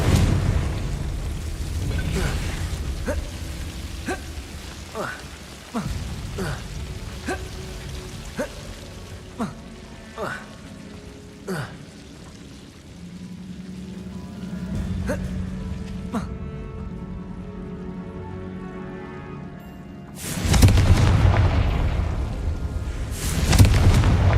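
Confringo fire spell explosions from Hogwarts Legacy combat, a repeated series of sharp blasts at a steady pace over a low rumble, ending with a louder, denser burst of impacts.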